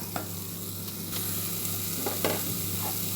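Chopped vegetables for sambar, mixed with sambar powder masala, sizzle steadily in a hot pan. A constant close hiss runs throughout, with a few soft scraping stir strokes rising above it and no talking.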